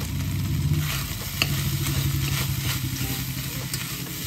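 Masoor pulao with kasuri methi and garam masala stirred in a pan, a steady scraping swish over a low continuous sizzle, close and fairly loud, with one sharp spoon knock partway through and no talking.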